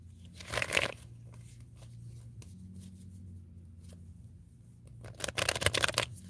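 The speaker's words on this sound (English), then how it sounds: "I'm going to give you a good couple of shuffles before I start." Tarot cards shuffled by hand in two bursts of riffling and flicking near the start and end, with a quieter stretch of soft handling and faint room hum in between.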